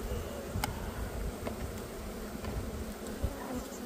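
Honey bees swarm at the front of a wooden hive, giving a dense, continuous close buzz with a few louder individual bees passing near.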